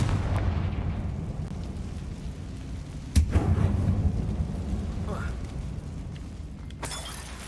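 A Confringo spell from Hogwarts Legacy bursts in a short, sharp explosive crack over a low rumbling game ambience, followed by scattered crackling and a second fainter burst.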